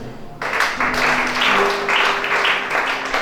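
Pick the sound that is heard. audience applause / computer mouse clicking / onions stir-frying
audience applause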